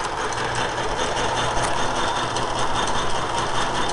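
A lathe runs steadily close by, giving a continuous dense mechanical whir and hum with no pauses or change in pitch, and no talking.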